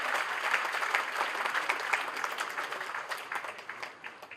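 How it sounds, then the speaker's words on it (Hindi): A crowd gives a rousing welcome to actress Leena Chandavarkar arriving on stage at a celebration of a singer's 50 years in playback singing, with brisk, steady applause that slowly thins toward the end. "लीना चंदावरकर जी का जोरदार तालियों के साथ स्वागत।"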